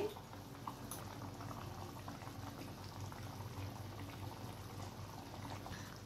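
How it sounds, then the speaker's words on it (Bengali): Chicken mince and egg gravy boils steadily in a pan, a dense, continuous bubbling and simmering that stays close and even throughout with no voices over it. "গ্রেভিটা ফুটে এসছে, এরপর আমি ডিমগুলো দিয়ে দিচ্ছি।"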